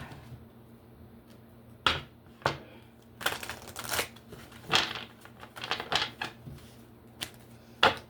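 Tarot cards being drawn and shuffled by hand, heard as a scattered run of quiet, crisp snaps and papery riffles with short pauses between them and no talking.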